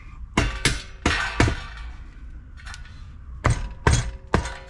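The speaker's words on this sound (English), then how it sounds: "Rubber hammer." A rubber mallet taps on a Briggs and Stratton Intek 20 hp engine from a Craftsman T1600 riding mower: seven sharp, close knocks in uneven pairs and clusters, separated by short quiet gaps.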